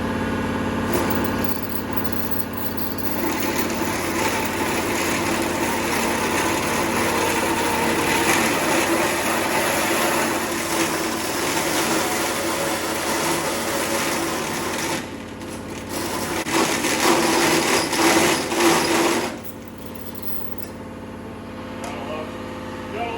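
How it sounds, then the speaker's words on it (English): A KTM 300 two-stroke exhaust silencer being cut along its weld with a power saw, a loud continuous whine and buzz close by that briefly dips and surges near the end. "The first step, I'm going to cut this thing right along the weld right here."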